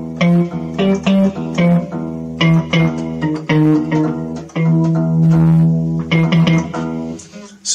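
Two guitar strings, meant to be tuned to the same E, plucked together repeatedly, their pitches slightly mismatched so the sound wavers and beats; short strums with brief pauses between.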